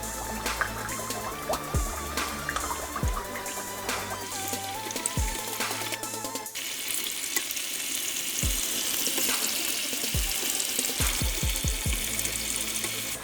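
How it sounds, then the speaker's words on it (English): Tomatoes frying in a pan for Nigerian fish stew, a steady dense sizzle and crackle with scattered sharp pops and spatters, close and continuous with no talking. "So I'm going to fry the tomatoes."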